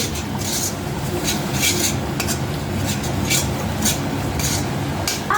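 Onion paste and ginger garlic paste fried and stirred in a pan, a constant loud sizzle with repeated scraping strokes of a spoon against the metal, steady throughout.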